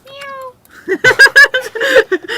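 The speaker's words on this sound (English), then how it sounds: "That was a pretty good meow, actually." A pet cat in The Sims 4 Cats and Dogs gives a short, close meow, then a run of quick choppy meowing and chattering calls, loud and alone.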